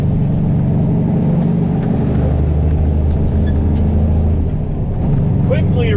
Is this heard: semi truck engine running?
yes